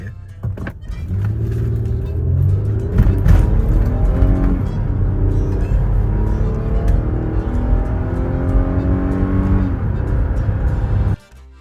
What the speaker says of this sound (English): And that right there is the 2004 Lexus RX 330.